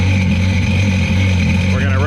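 A Sea-Doo RXT jet ski engine runs steadily with a low, constant hum, close and loud, its pitch shifting slightly near the end.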